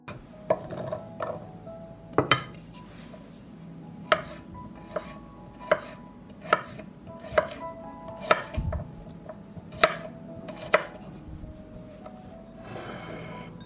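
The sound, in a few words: mincing garlic cloves with a knife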